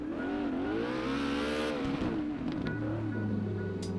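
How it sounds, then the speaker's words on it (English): A Cobra S650 car engine in the video game CarX Drift Racing Online revs and drops in pitch, with a few sharp crackling exhaust pops breaking through near the end. "The pops though sound really nice on this car."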